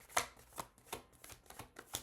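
Deck of tarot cards shuffled by hand, a quick run of soft riffling snaps and flutters in a steady rhythm, close and quiet over about two seconds, no voices.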